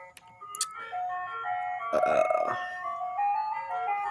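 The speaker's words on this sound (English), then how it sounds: "This fucking ice cream truck, dude." An ice cream truck plays its tinkling jingle melody steadily as it passes nearby, with a few brief knocks early on and the tune swelling in the middle.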